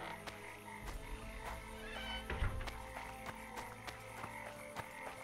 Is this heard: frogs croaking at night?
yes